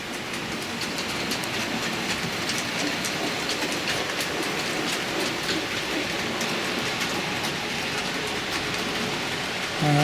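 Model Freightliner Class 08 shunter locomotive running on a layout, giving a continuous close rattling clatter with fine rapid clicking from the wheels on the track throughout.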